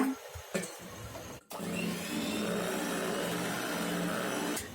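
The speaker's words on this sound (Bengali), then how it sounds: "কয়েক সেকেন্ড বিট করেছি শুধু ডিমের কুসুমটুকু আমি মিশিয়ে নিয়েছি" Electric hand beater whirring steadily as it briefly mixes egg yolks into batter for a village-style steamed palm (taal) cake, a continuous loud motor hum after a short start.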